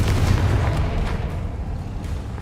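A Confringo fire spell bursts in Hogwarts Legacy, a loud, heavy boom with a rumbling low-end tail that fades over a couple of seconds, standing alone without talk.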